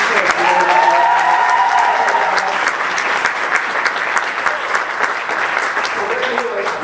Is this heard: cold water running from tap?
no